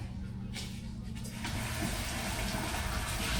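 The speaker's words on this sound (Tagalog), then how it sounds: "Siyempre, lalagyan mo ng tubig yan." Water poured into a cooking pot to boil, a steady rushing stream that swells and grows fuller midway, loud and close, with no talking over it.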